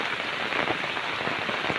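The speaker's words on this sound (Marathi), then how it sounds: "पाऊस काय जायचं नावच नाही घेत" Rain falls steadily, pattering on surfaces nearby with a constant wash of droplets and no voices.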